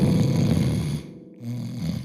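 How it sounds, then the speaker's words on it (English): Loud, rough snoring from a sleeper in two drawn-out breaths, separated by a short quiet gap around the inhale. "snoring louder than ever."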